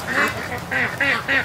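Farm ducks and geese call close by in loud repeated bursts, four or five nasal quacks and honks in quick succession.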